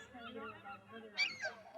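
Ducks being fed by a family, giving a couple of brief nasal honks over soft background rustle and murmuring.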